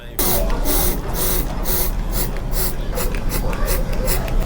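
Hair color spray misted onto a beard during a haircut: a close, steady run of short hissing bursts that pulse in a quick, even rhythm across the whole stretch.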